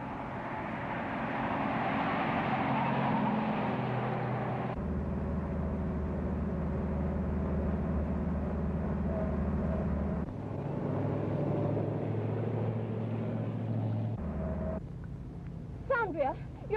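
A car from a 1935 setting rumbles steadily with a low engine drone, shifting in tone partway through, and a voice is heard near the end.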